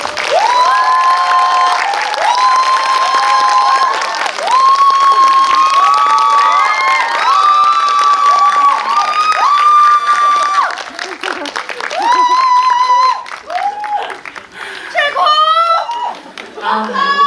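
Audience at a Korean film Q&A screening of Pamyo with director Jang Jae-hyun and actor Choi Min-sik applauds and cheers loudly, with high excited screams and shouts rising over continuous clapping throughout.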